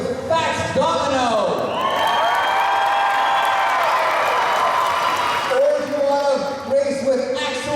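A fairground crowd at a dog-racing show claps and whoops to choose a racing dog, loud and close, mixed with a voice over a speaker.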